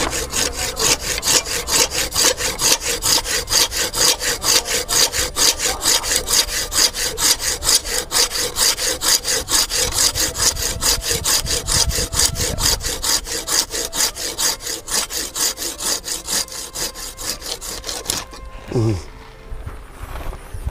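Wood is sawn by hand, with one person pulling and another cutting, giving a steady rapid back-and-forth rasp that is loud and close for most of the stretch, then stops near the end with a few scraping sounds and faint talk.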